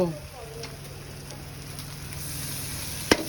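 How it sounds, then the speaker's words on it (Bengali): Lote fish (Bombay duck) frying in a pan with tomato give a steady, soft sizzle throughout, with a brief sharp clatter near the end. "এখন কিন্তু লোটে মাছ চলে যাচ্ছে দেখো"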